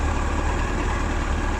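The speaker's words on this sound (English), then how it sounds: "It is idling a little low." A Yamaha R1 5JJ motorcycle engine idles a little low after carburettor adjustment, a close, steady low rumble with a fast even pulse and no break.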